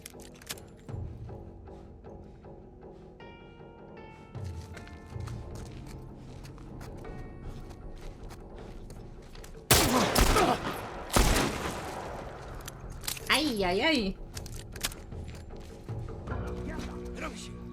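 Gunfire in The Last of Us, with a loud burst of shots and impacts partway through, set against ongoing game sounds and background effects.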